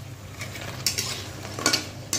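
Fuchka being stirred nonstop as it fries in a pan over low heat, a soft sizzle with several sharp scrapes and clinks of the utensil against the pan.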